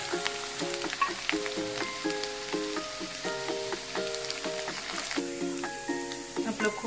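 Garlic and grated coconut crackle in hot oil with popped mustard seeds for sambar, a steady close sizzle with scattered spits, mixed with faint background tones.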